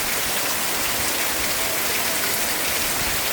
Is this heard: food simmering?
no